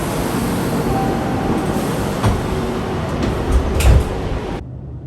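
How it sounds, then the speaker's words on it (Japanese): Doors sliding shut on a JR Shikoku limited express bound for Matsuyama at Utazu station, a steady rumble with a couple of thuds and clunks near the end before the sound cuts off. "出入り口ドアが閉まります。閉まるドアにご注意ください。"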